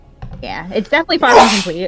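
A single sharp sneeze bursts out partway through, loud and close, with people talking just before and after it.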